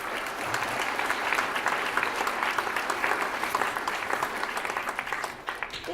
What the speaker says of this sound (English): So please, again, give them a round of applause.